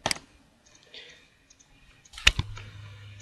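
Sharp computer mouse clicks in Ecotect building-analysis software, one near the start and a tight cluster later, close and dry against a quiet room with a faint low hum afterward.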